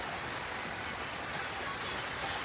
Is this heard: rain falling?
yes